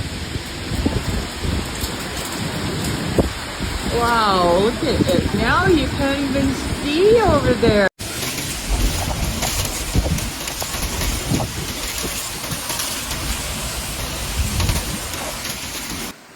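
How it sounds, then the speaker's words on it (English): Heavy rain pours during a powerful thunderstorm over flooded streets in the Edmonton region of Alberta, a dense steady hiss that fills the whole stretch, with a person talking over it in the first half. "A powerful band of thunderstorms is sweeping across the Edmonton region tonight"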